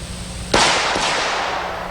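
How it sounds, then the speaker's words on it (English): A handgun chambered in necked-down 460 Rowland fires one sharp, loud shot about half a second in, followed by a long ringing decay outdoors, with a faint second report trailing under it. "Get off a couple of shots."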